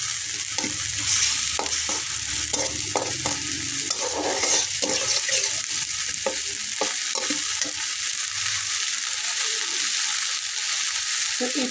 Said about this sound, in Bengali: এবং মশলাটাকে একটু ভালোভাবে কষিয়ে নেব।